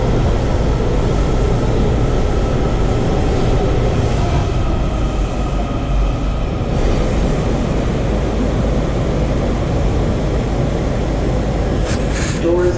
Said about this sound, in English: Train 7172 leaving Metro Center. Kawasaki train to Glenmont.